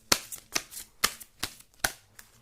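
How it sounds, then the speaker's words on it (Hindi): Tarot cards being shuffled by hand, five crisp riffling bursts at an even, roughly half-second rhythm, close and fairly quiet with no speech. "थोड़ा सा मैं शफल कर लेती हूँ।"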